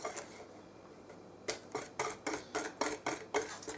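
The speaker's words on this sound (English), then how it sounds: "I'm just going to mix it together now and make sure it gets the consistency that I need" Whisk or fork clinking rhythmically against a bowl while beating eggs for baking, about ten quick, faint strokes in steady succession after a quiet start.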